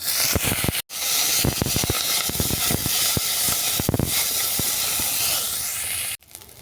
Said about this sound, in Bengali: কুমড়ো দানা আমার ভাজা হয়ে গেছে